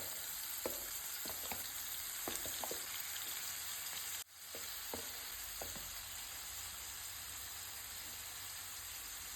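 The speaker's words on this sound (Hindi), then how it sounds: "चिकन को ना हम अब अच्छे से दोनों साइड से क्रंची होने तक फ्राई करेंगे" Chicken pieces shallow frying in oil in a pan for chicken cafreal, a steady close sizzle with scattered crackles and pops throughout, briefly dipping for a moment before resuming.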